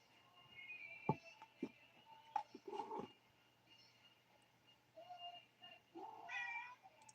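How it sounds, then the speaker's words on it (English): A cat meows several times close by indoors, short calls spread out with quiet gaps and a longer meow near the end. "I have to see what he is meowing about"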